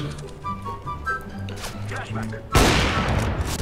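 Gunfire in the video game CS:GO, a sudden loud burst of shots erupting near the end after steady game background and hoofbeat-like ambience.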